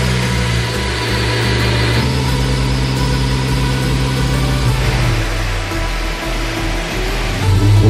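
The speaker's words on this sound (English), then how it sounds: "So we'll get the car warmed up, we'll do a few warm-up runs, and then the moment of truth, let's get it on the dyno." A Honda S2000 fitted with a cat-back exhaust runs on a dyno during warm-up, a loud, close, continuous engine drone with steady idle tones and slight shifts in revs, no voices.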